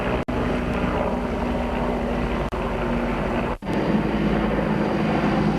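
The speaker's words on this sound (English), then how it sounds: "there's a lot of helicopters flying by here." A low, continuous engine rumble of helicopters passing overhead, steady and fairly loud, with a few brief dropouts and wind buffeting.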